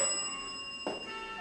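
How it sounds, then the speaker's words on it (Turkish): A bell rings with a sustained metallic tone and bright overtones, then a second strike lands just before the clip ends, fairly quiet in an indoor setting. "Eyvah. Bir çan daha."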